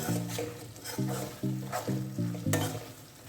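Potato masala frying and being stirred in a pan, a steady sizzle broken by repeated scraping strokes of a spoon roughly every half second, close and moderately loud with no talking.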